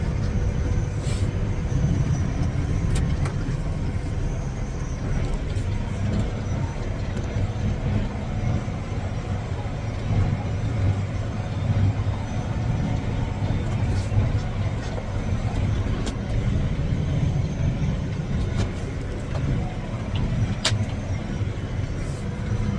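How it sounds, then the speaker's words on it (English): Vehicle rolling slowly across rough, bumpy pasture, a continuous low rumble with rattles and jolts throughout, fairly close and steady with no talk. "Not driving overly fast out in this pasture because it's rough and it's bouncy."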